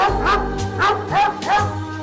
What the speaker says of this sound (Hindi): ये डॉग तुम्हें देख के भौंक क्यों रहा है?